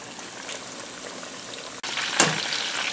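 Pork cutlets frying in hot oil, a soft crackling hiss that swells abruptly into a louder, brighter sizzle partway through, close by and without talk.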